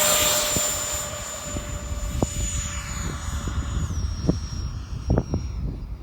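An E-flite F4 Phantom II RC jet with its electric ducted fan takes off from a grass field, a loud high whine that slowly fades and drops in pitch as it climbs away, with faint outdoor thumps and clatter.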